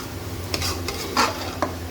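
Spices stir-fried in a karahi for a white chicken karahi, with a low steady sizzle and a few soft scraping stirs of the spoon against the pan, close up and without voices.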